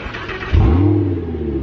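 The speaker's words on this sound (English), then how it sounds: "you wanna start the car?" Audi R8 V10 with an Armytrix titanium exhaust cranks and fires, bursting into a loud, close revving roar that then settles into a deep, steady idle.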